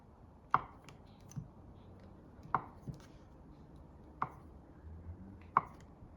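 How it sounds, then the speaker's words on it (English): A knife cuts cheddar, Colby and Gouda cheese finely on a board, making four sharp, separate chopping taps spaced across a quiet room, each with a small softer knock after it. "Now usually we'd grate this, but I don't have a grater, so I'm just gonna cut it very finely"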